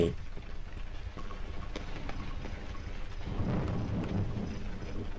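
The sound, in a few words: thunder from lightning strike in video game Cry of Fear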